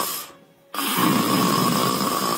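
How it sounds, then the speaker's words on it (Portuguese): Loud snoring heard close up, one long rasping breath that cuts off, a short pause, then another droning snore. "Esse ronco não é seu"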